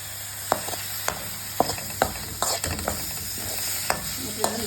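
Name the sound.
frying chopped tomato and curry leaves for rasam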